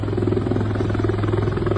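Rescue helicopter flying over flooded homes near Pune during heavy rain, a steady, loud droning rotor and engine hum with a constant low buzz throughout, no voices.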